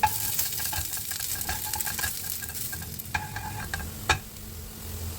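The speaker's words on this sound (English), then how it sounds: "In a preheated frying pan, add a tablespoon of oil, then sauté thinly sliced ginger." Thinly sliced ginger sautés in a tablespoon of oil in a preheated frying pan, a steady close sizzle with occasional sharper crackles and a few scraping stirs.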